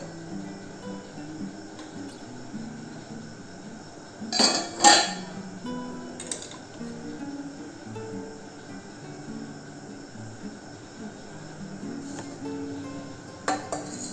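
Steel containers lifted out of a pressure cooker after steaming, with a pair of close metallic clanks near the middle and a lighter clink toward the end over a quiet hum of kitchen background.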